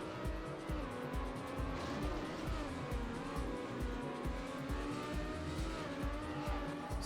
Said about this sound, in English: Skid around.